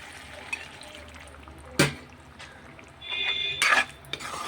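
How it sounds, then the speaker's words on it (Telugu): A small amount of water pours into a pan of cucumber and prawns cooking with salt, chilli and turmeric, a short close gurgle after a few utensil clinks and pan knocks. "కొంచెం వాటర్ వేసుకుందాం ఎంత కాదు తక్కువగానే"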